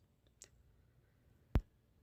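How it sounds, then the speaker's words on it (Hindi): A single sharp computer mouse click, close and distinct, preceded by a fainter tap, in a quiet room. "तो मैं यहाँ पर नेक्स्ट के ऊपर क्लिक कर देता हूँ"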